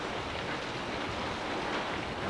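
Water leaks through the hull of the former Prince Edward Island ferry MV John Hamilton Gray while it sits in dry dock, making a steady, close, even hiss of running water with no voices.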